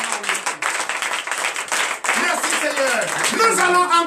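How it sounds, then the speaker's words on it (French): A church congregation at morning prayer claps in acclamation, rhythmic hand claps running steadily under a voice speaking and calling out over them. "Donnez de vive acclamation à notre Seigneur."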